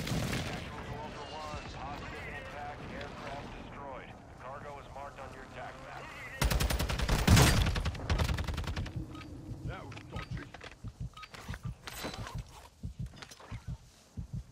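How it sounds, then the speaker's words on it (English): A precision airstrike in Call of Duty DMZ pounds the area with a loud, rumbling run of close explosions and crackling blasts, with a voice talking over the earlier part before the impacts. "Friendly precision airstrike inbound."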